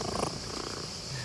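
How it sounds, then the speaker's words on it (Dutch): A cat purrs close up with a soft, steady rumble, brief and continuous, with no talking. "Ik hoor hem hier gewoon spinnen."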